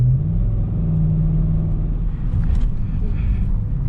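A 2010 Volvo XC90 V8 drives off-road through snow, its low engine rumble loud and steady from inside the cabin, with brief bumps and rattles.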